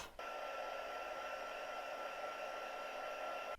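A hair dryer runs steadily for a few seconds to dry wet watercolour paint on a painted plant mug design, a close, loud, even whoosh with a faint whine, starting and stopping abruptly.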